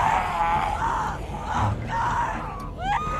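A woman screams in The Walking Dead video game, a series of strained, wavering cries repeated several times over a low murmur of background noise, fairly loud and close.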